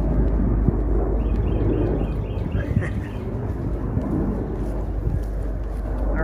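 Military aircraft passing overhead outdoors, a loud, steady broadband roar with wind buffeting that holds throughout without a clear rise or fade.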